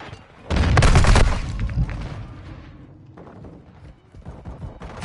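Semtex grenade blast in the game Invasion: a loud, close roaring explosion bursts out and rumbles for under a second, then fades into scattered gunfire and thuds that pick up again toward the end.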